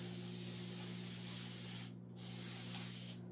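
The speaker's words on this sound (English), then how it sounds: "just put water in it, and I like this spray" Short bursts of mist from a reused air freshener spray bottle filled with plain water, two brief hissing sprays set against a steady low electrical hum.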